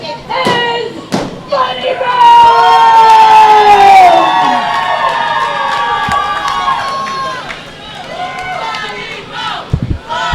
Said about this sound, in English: Funnybone receiving a great reception from the crowd after Tiffany announces him